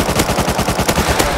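Rapid automatic gunfire in the survival game Rust, a loud continuous burst of evenly spaced shots close up with no talking.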